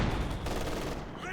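An MG42 machine gun in a video game fires a rapid, continuous stream of rounds, loud and close, for a short sustained burst.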